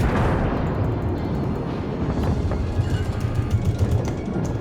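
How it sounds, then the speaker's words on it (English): Deep rumbling blast from a torpedo striking a battleship in a naval warfare game, a sustained loud boom with dense low-end roar and crackling debris continuing throughout. "Look out, you're gonna hit torpedoes."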